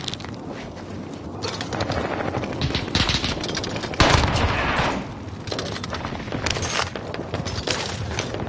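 Rapid bursts of automatic gunfire in a multiplayer shooter game crackle loudly and almost continuously, with heavier booming impacts mixed in and dense combat noise throughout.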